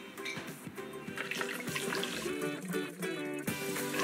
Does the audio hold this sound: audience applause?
no